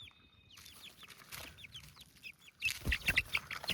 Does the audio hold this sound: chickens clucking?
yes